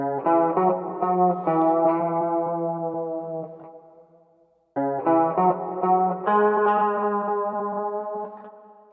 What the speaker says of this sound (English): So this is what the full loop will now sound like.